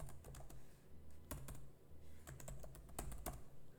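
Quiet computer keyboard typing, a handful of quick key taps in small clusters with brief gaps, close but soft against a low steady hum.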